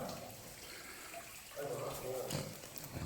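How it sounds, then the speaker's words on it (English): Water trickles and runs through an old brick railway tunnel, a steady wash of noise with a faint, hollow echo while someone speaks over it. "I can hear water running down here,"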